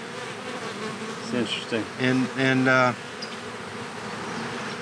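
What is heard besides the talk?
honey bees buzzing while entering a nucleus colony hive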